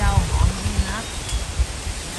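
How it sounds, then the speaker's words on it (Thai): Strong wind gusts through trees as a steady, hissing rush, with rustling, over which a person talks. "อยู่ๆลมแรงขึ้นมาเชียว"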